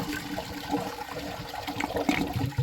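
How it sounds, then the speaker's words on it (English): A 1997 American Standard Savona one-piece toilet bowl siphons out, a continuous rushing, gurgling flow of water that is close and fairly loud, with no voices. "it does siphon out if you do fill up the bowl"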